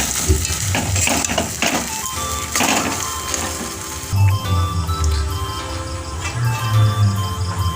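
Chop spice mix with fried peanuts being sautéed in a pan, a loud sizzle broken by repeated scraping and stirring knocks of a spatula, with bursts of frying in the later seconds.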